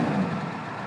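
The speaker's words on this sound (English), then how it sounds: "I like to warm up diesels a little bit before I really go revving them" A 1994 Ford F250 diesel engine running on a cold morning, a steady low rumble close by with a slight rise in level at the start and then settling into an even idle.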